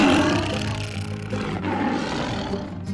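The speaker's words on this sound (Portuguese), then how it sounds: "Mas os leões faziam muito barulho." Cartoon lions roar at a zoo, a loud, continuous growling rumble that runs the whole stretch with no talk over it.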